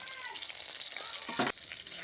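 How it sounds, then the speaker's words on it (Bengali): Steady oil sizzle of tomatoes frying, a continuous crackling hiss with a brief louder burst near the middle; no voices. "ওই তেলে আমি টমেটোগুলো ভেজে নেব"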